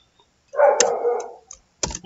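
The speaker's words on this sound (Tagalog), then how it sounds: "medyo maingay yung aso sa labas, no?" A dog barks outdoors, one muffled, somewhat distant bark followed by a few sharp clicks or knocks nearby in an otherwise quiet room.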